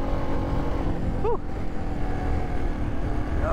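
Yamaha XT250 motorcycle engine droning steadily during a ride, loud and close with constant wind rush and a brief tonal chirp partway through.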